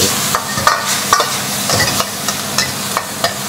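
Pork stir-fried over high heat in a wok sizzles loudly and steadily, with a constant frying hiss. Repeated clacks of a utensil scraping and tossing against the metal pan break in at an irregular rhythm, and no voices are heard.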